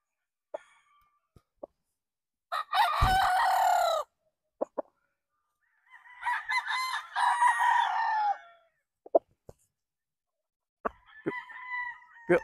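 A Boston Roundhead gamecock rooster about eleven months old crows twice in strong close bursts, with scattered clucks and clicks between them and a final short call near the end.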